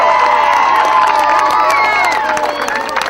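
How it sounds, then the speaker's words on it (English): A crowd celebrates after a Limerick senior hurling final between Adare and Patrickswell. Loud, sustained cheering and shouting from many voices, including high whoops and children's cries, fills the whole stretch. "I think everyone deserves a round of applause for everything they've done for Adare hurling"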